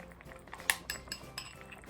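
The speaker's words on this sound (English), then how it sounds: "we scoop the dough by spoon and slowly float it on the soup" A metal spoon clinks lightly against a pot or bowl while scooping watery suiton dumpling dough onto miso soup, giving a few quiet, scattered taps and scrapes.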